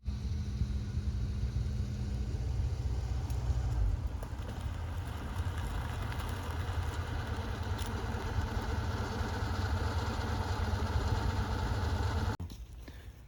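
Engine of a Porsche project car with a top speed of around 155 mph on a short drive, a steady low rumble that shifts in tone near four seconds and cuts off abruptly near the end, with no talking.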